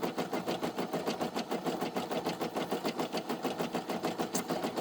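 A Brother SE1900 embroidery machine stitches a patch with a steady, fast, rhythmic clatter of needle strokes, running continuously up close with no talking.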